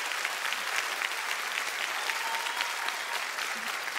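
Audience applause fills a comedy stand-up show, a steady dense wash of clapping holding at an even level throughout with no voices rising above it.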